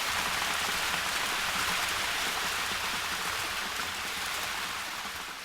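A small waterfall on an Oahu ridge trail gives a steady, close, broadband rush of falling water, continuous and even with no voices.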